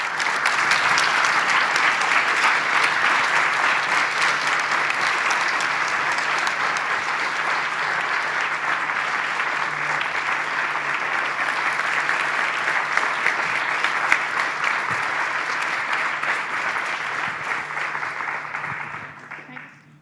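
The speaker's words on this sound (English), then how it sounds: "give a really warm round of applause to thank our panel members" An audience in a hall gives a warm, sustained round of applause for panel members, dense clapping that holds steady for about twenty seconds before fading out at the end.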